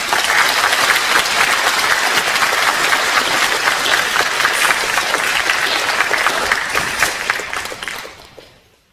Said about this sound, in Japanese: 拍手でよろしくお願いします。